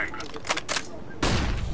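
Gunfire in the game CS:GO comes in a few quick bursts of shots partway through, then a louder blast near the end, all fairly faint and set against game background noise.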